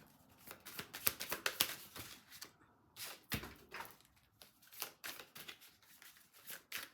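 Soft, rapid papery riffling and flicking of tarot cards being shuffled in repeated bursts, close and quiet, with brief pauses between.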